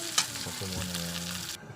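Liver, garlic and onion stir-fried in a pan for chop suey: a brief, steady sizzle with a sharp utensil clatter near the start and faint stirring scrapes.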